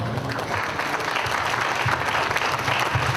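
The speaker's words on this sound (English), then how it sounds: "Give him a big round of applause." Dense, steady applause from a large audience, many hands clapping together at close range.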